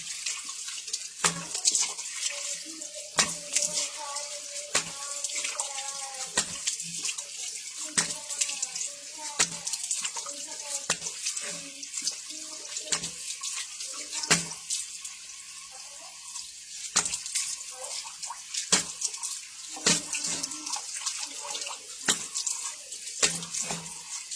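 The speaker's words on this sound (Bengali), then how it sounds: "নাও ধুয়ে ফেলছি।" Water runs steadily from a tap while a face pack is washed off, a continuous splashing hiss broken by frequent close splashes and knocks from hands in the stream, with occasional faint talk.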